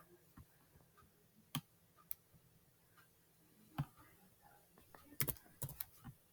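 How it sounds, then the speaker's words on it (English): Scattered clicks of keys being struck on a computer keyboard, irregular and fairly quiet, with a small cluster of quick taps near the end over a faint room hush. "just hitting G and Y on the keyboard"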